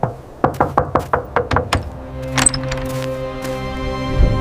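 Knuckles rap on a village house door in a series of about eight sharp, evenly spaced knocks, loud and close, followed by a lingering tonal ring with no voices.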